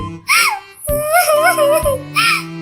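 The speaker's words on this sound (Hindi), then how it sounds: "रोने की आवाज सुनकर सुंदरी कौवी वहाँ आती है।" A cartoon sparrow character cries in a high, wavering voice, with short sobbing bursts that rise and fall over a couple of seconds. The crying is loud and close, with vocal wails and whimpers and little background sound.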